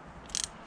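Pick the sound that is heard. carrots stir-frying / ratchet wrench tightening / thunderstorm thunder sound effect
ratchet wrench tightening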